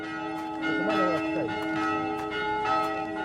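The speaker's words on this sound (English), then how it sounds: "Bells are summoning everyone to church." Church bells ring out before Easter in the Sami town of Kautokeino, with sustained overlapping tones and repeated strikes, and faint voices mixed in underneath.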